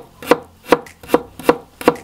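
A knife chops finely through garlic on a cutting board with five sharp, evenly spaced thuds, close and crisp, with no talking.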